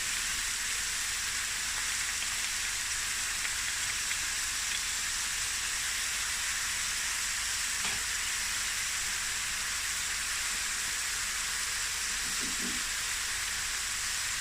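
Garlic and ginger paste frying with chicken wings in a pan for akhni gives a loud, unbroken hiss of sizzling that holds evenly throughout, close up and without voices.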